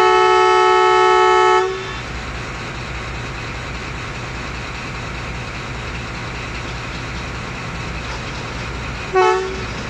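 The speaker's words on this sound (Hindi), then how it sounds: "फैज़ अहमद फैज़ पैसेंजर ZCU20 6405 के साथ हल्की धुंध में 7:27 पर पास हुई।" Pakistani Faiz Ahmed Faiz passenger train hauled by ZCU20 locomotive 6405 passing in light fog, opening with a loud sustained multi-tone horn blast that cuts off, then steady rumbling wheel and engine noise, with a brief second horn toot near the end.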